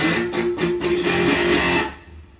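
Guitar strumming chords in a steady run of about eight sharp strokes, close and loud, ringing out briefly at the end as the strumming stops.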